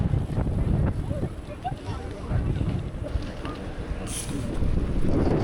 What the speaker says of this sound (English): Whoa, there is a wind.